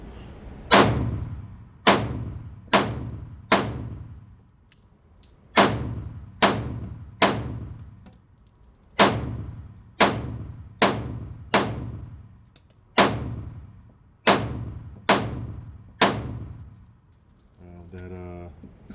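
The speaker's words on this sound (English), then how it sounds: "we're gonna put this mag through the compact carry comp" A Smith & Wesson M&P 2.0 Compact Carry Comp pistol fires a full magazine at a range: a dozen or more loud, sharp reports in uneven bursts, each ringing briefly, with a short pause midway.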